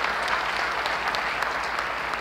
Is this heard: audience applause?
yes